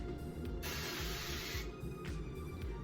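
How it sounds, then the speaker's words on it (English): Cooking oil spray hisses into a mug in a kitchen, with about a second-long burst and a shorter puff after it, over a low background hum. "So now we're gonna spray it with oil."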